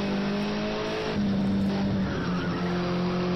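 A race car in a racing video game at Brno skidding across grass after losing control, engine droning in steady tones while tires scrub and hiss loudly throughout the short burst.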